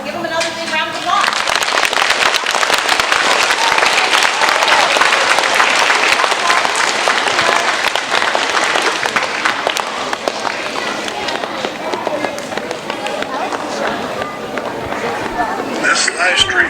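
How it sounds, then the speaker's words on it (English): Loud, sustained applause from a large theatre audience after a children's theatre performance of The Snow Queen, dense clapping and cheering that holds steady for several seconds before thinning slightly toward the end. "So give them another big round of applause."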